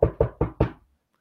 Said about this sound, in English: That knocking sound